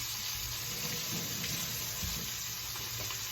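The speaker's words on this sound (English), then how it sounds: "So I like to run it under the sink" Water runs steadily from a kitchen sink tap as a cut onion is rinsed under it, a continuous close splashing hiss with faint clinks and no talking.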